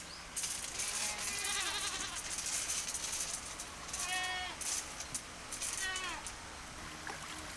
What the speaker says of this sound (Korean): 하루 종일 염소 소리가 끊이지 않는 곳